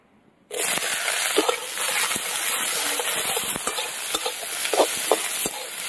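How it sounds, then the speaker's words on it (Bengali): Sliced onion hits hot mustard oil in a pan and starts sizzling loudly, with a sudden onset followed by a steady close crackling fry and occasional stirring clicks. "পেঁয়াজ কেটে নিয়েছি, পেঁয়াজটা দিয়ে দেবো তেলের উপরে।"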